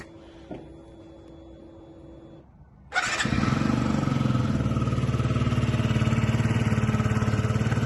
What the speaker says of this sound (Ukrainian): Скутер працює ідеально.